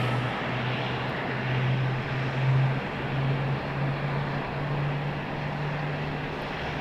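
An MD-11 airliner moves across the apron at Raleigh-Durham International Airport, a distant steady jet rumble with a sustained low drone that swells slightly in the middle.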